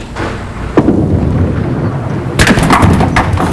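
Five-pin bowling ball crashing into pins in a televised quarter-final match, a sharp clatter near the start followed by a louder burst of scattering pins and rattling later, over steady arena ambience.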